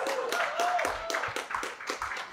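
An audience in a comedy club claps in a run of sharp, uneven bursts that fade toward the end, while a voice sounds faintly beneath the applause.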